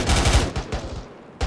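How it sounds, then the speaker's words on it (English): A rapid burst of gunfire from a rifle firing tracer rounds in the military shooter ArmA 3, several close, loud shots in quick rhythm, then a short gap before one more report. "I'm gonna fire a tracer, Poppin."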